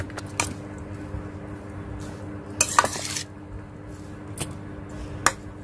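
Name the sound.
mixing lemon rice with tempering in a vessel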